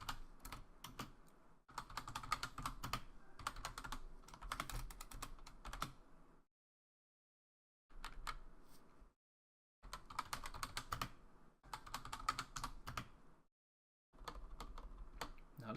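Code being typed on a computer keyboard: bursts of rapid, close key clicks broken by several short silent pauses, with no talking.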